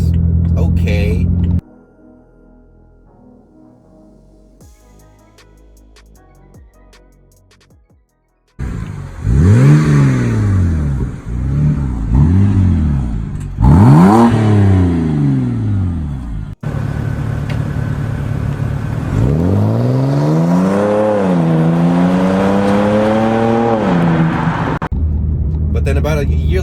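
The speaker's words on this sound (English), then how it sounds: "the muffler delete definitely added a nice, exhaust tone" BMW E90 328i with the N52 inline-six and a muffler-delete exhaust, first idling, then revved in rising and falling sweeps, ending in a long, loud pull of acceleration with a raspy, droning tone.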